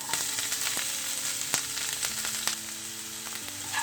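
Chopped carrot, green chillies and onion sizzle steadily in a hot pan while a whole chicken is cooked in a pressure cooker, with a constant crackling hiss broken by a few sharp pops and stirring clicks, and no talking.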